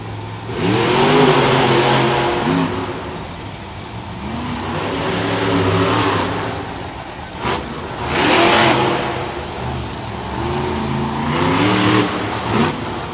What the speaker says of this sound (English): Matt Pagliarulo and the Michigan Ice Monster complete this track here